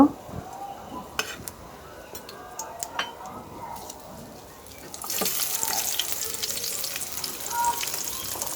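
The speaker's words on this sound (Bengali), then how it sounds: "পেঁয়াজ কুচিগুলো এই গরম তেলে ভেজে নিতে হবে হালকা।" Chopped onions hit hot oil partway through and set off a sudden loud, steady sizzle that stays close and continuous, after a stretch of quieter kitchen clinks.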